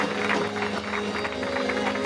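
Worshippers at a church conference clap together, a thick, sustained patter of many hands blending with music and crowd sound throughout.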